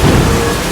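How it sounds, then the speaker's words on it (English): Steady rain in a long monsoon-season downpour, a dense continuous hiss of drops with a low rumble beneath, loud and close with no voices. "How much more rain can there be?"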